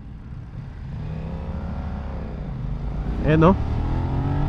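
A 2022 BMW F900R motorcycle with ride-by-wire throttle accelerates, its engine note climbing steadily under wind noise, with a short sharp rise near the end while a rider talks briefly.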